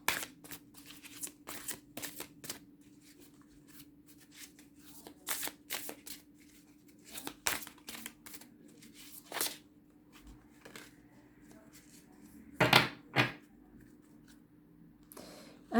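Oracle cards being shuffled by hand, a run of crisp riffling bursts and taps, some sharp and close, with short pauses between, alone without talk.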